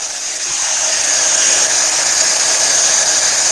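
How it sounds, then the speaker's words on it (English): A steady, loud electric blower roars continuously at close range, a hot-air gun hissing with a bright, sustained whoosh throughout. "I just don't want the heat gun in"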